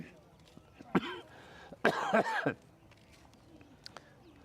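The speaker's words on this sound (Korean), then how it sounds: "아침에 좀 기침이 좀 더 나오네요" A person coughs a few times, close by, with a throat-clearing sound amid faint background noise and small clicks.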